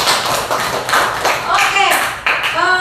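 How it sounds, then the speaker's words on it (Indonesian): Schoolchildren in an Indonesian classroom clap their hands together in quick bursts, loud and close, while voices chatter and call out over the clapping. "Terima kasih, tepuk tangan dulu."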